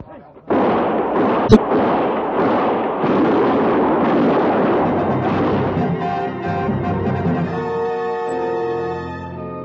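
Gunfire in a frontier-era radio drama: a sudden loud blast and a sharp crack give way to a sustained rumbling volley that fades into a lingering ringing tail.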